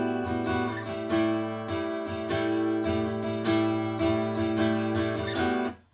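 Strummed acoustic guitar plays a chord progression in a steady rhythm, close and full, with bright chords ringing between repeated strokes and no voice over it.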